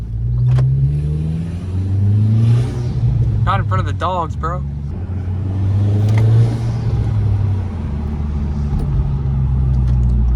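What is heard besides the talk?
car exhaust revving with turbo spool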